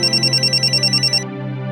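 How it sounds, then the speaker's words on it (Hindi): A telephone rings loudly in a drama scene with a fast, even pulsing trill that cuts off after about a second. A low steady hum continues afterward, and no one speaks. "फोन बज रहा है, फोन उठा लो वरना मैं रिंगटोन पे नाचने लगेगी।"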